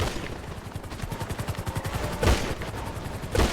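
Rapid gunfire in GTA during a hospital firefight, a steady stream of quick automatic shots followed by two heavier, louder blasts near the end, with no talk.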